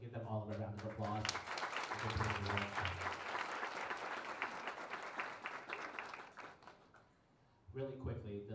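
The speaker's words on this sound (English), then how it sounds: "So can we give them all a round of applause?" Gala crowd at a community revitalization group's first annual dinner breaks into sustained, loud applause lasting several seconds, with voices mixed in at the start and end.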